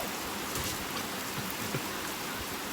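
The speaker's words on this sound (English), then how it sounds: "It's raining cats and dogs outside." Steady, dense rain falls outdoors, heard as an even broadband hiss with scattered droplet patter throughout and no voices.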